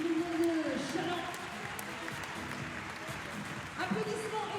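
Sustained applause from a crowd at a basketball game in La Roche-sur-Yon, moderately loud, under someone speaking French over a PA system.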